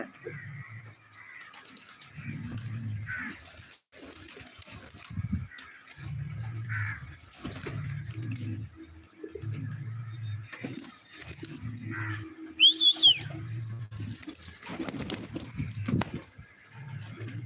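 Pigeons coo in a series of soft, low, rounded calls, repeating at a steady rhythm close by, with a brief high chirp partway through and light background noise.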